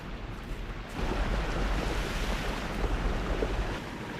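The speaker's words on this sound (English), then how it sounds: "no other factory in the world mixes its chocolate by waterfall" A chocolate waterfall churns inside a chocolate factory, giving a steady, loud rushing roar of falling liquid that swells after the first second and continues without pause.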